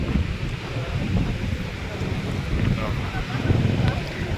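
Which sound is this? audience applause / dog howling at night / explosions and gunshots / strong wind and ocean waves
strong wind and ocean waves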